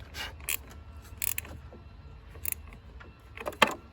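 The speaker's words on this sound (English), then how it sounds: "8mm wrench on there." An 8mm wrench tightens the throttle position sensor on a 1999–2006 GMC Sierra, making a few quiet, close metallic clicks and ratcheting ticks spread unevenly over a faint background.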